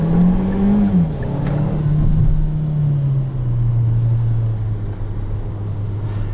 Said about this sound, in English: the all-wheel drive plus the turbo really claw it out of corners